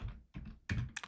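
Keys being pressed to enter a calculation on a computer keyboard, a few close, soft thuddy taps in quick clusters with a brief sharper click near the end.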